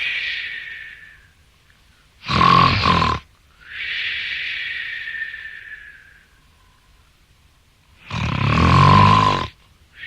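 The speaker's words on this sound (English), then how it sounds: "soon the giant fell asleep and began snoring loudly" A giant in a children's story snores loudly: two deep, rasping, roaring inhalations alternate with softer, airy whistling exhales in a slow repeating cycle, voiced as a close, exaggerated sound effect.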